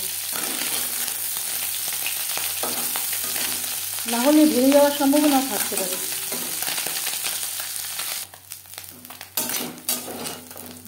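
Fish pieces frying until crisp in a pan give a steady, close sizzle throughout, with a brief louder burst of spitting around the middle and a voice talking over the frying.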